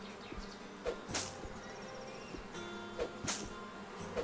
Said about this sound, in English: Oh yeah, there's bees up there.